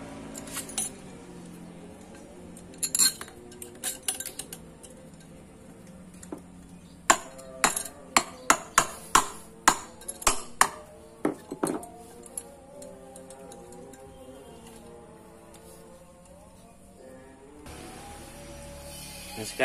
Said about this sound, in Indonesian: kita pasang dua baut saja